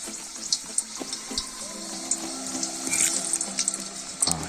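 Potato pieces sizzle as they drop into hot oil in a kazan over an open fire, a close, steady hiss and crackle with sharp spatters popping through.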